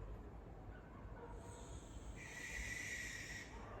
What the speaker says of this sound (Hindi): इतनी तेज चिल्लाता है ये।